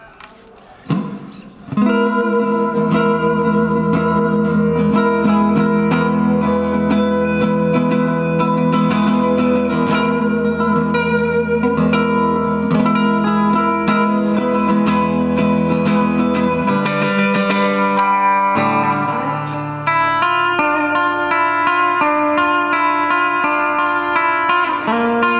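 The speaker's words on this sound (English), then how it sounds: "so I'll turn the reverb up to full." An electric guitar through an Orange Crush 35RT amp with reverb turned to full rings out in long sustained chords, a loud washy tail carrying each strum, with a chord change near the end.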